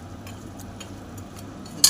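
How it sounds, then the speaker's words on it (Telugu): Mutton curry being stirred in a pot with a utensil, a low bubbling simmer underneath and a few soft scraping strokes, ending on one sharper metallic clink. "మంచి కలుపుకోవాలి కూరని."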